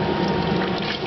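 A pump in a homebrew air conditioner circulates ice water, giving a loud, steady rush of flowing water with a continuous churning hum.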